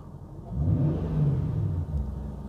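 A Jaguar XK engine is revved as the throttle is blipped. It swells from idle into two close, rumbling rises before dropping back, heard nearby without any talk.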